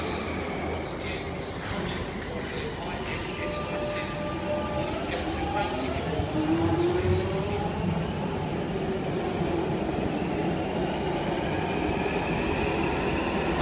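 A London Underground train arrives at a station, rumbling in with rising and falling wheel squeals and a steady roar that fills the space.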